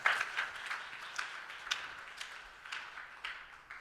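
Scattered clapping from a church congregation, sharp claps repeating irregularly across the whole stretch at a modest, somewhat distant level with no speech over it.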